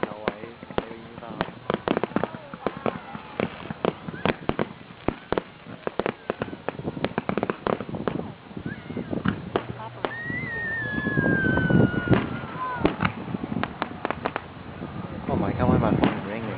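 Independence Day fireworks in San Antonio burst in a dense, irregular string of sharp booms and crackles, some loud and close, others further off. Excited voices and crowd chatter run underneath, and a whistle rises partway through.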